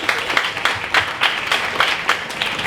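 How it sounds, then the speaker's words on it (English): Scattered applause from a small crowd at a corporate anniversary event in Kuala Lumpur, steady clapping with some louder claps standing out in a loose rhythm. "Big round of applause for that."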